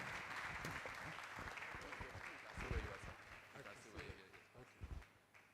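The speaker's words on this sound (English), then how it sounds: "Let's give him a round of applause" Faint, dense applause for a chairman rises from an audience at a provost election community gathering, a soft continuous patter of many hands throughout.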